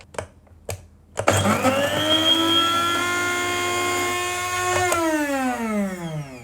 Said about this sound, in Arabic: سامعين المطحنة صوتها لازال طبيعي جدا